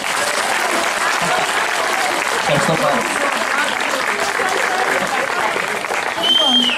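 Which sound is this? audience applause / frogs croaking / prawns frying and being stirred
audience applause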